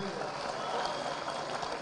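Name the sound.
audience applause at a political meeting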